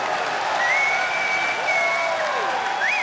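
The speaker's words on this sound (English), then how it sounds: "The crowd appreciating this Cloud9 lineup that Jack has put together." Esports arena crowd applauding during a CS:GO semi-final match on de_inferno at the ELEAGUE Major 2018, a steady wash of clapping and cheering with a rising tone swept over it, continuous and loud throughout.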